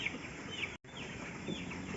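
Chickens on a chicken farm cluck faintly over a steady background hum and hiss, with a brief dropout partway through; no one speaks.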